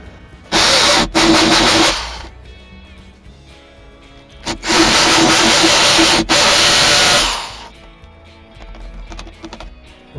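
A small electric drill, running hot and struggling, bores holes for a home-made plant shelf in a cramped spot; two loud sustained bursts of whirring, each a second or two long, separated by a quieter pause.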